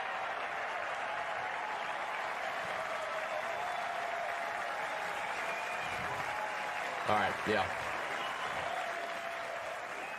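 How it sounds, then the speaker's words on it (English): A crowd at Augusta cheers and applauds for Rory McIlroy's repeat win, a steady broad roar heard at a distance beneath a brief spoken exclamation. "The chants of the crowd"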